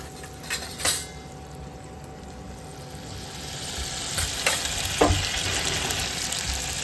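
A tablespoon of mustard seeds sizzling in hot oil for veg dalcha, a continuous close hiss with a few sharp pops and spatters, growing slightly louder toward the end.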